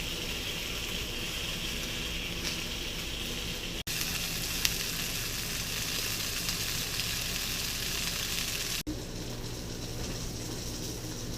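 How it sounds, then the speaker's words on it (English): Sausage frying in a pan for breakfast burritos, a dense continuous sizzle and crackle at close range with a few faint clicks, no talking. "Now that you have your sausage cooking"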